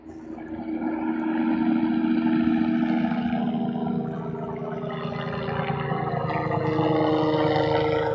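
A life flight medical aircraft passes overhead on a short run toward Columbus, its steady engine drone and rotor-like throb holding loud and close throughout, swelling slightly midway with no talk.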